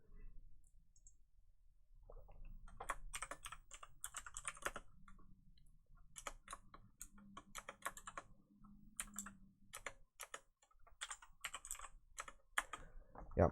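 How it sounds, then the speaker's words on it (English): Rapid computer keyboard typing with bursts of clicking keystrokes, continuous and fairly close, pausing briefly mid-way before resuming, while a low hum sits underneath. "Yeah, good typing today."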